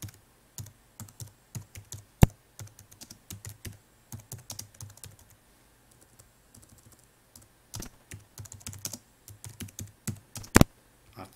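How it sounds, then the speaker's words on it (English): Keystrokes on a computer keyboard clatter in uneven bursts while data is entered into a course assessment system, a few sharper key hits standing out, with quiet pauses between runs and no talking. "just type in here"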